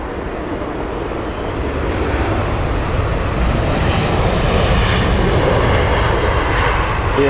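British Airways airliner at Heathrow Airport, heard as a loud, steady engine roar from nearby that builds slightly and continues without pause and without any voices.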